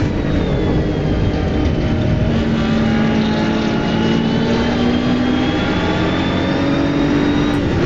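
BMW M4 GT3 race car engine in a racing game at Brands Hatch, a loud, steady close drone whose pitch climbs slowly and evenly throughout, with no talk.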